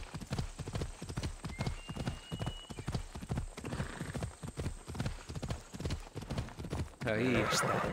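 Rapid rhythmic clip-clop of horse hooves throughout, with a horse neighing loudly near the end; game-like sound effects from Assassin's Creed Odyssey.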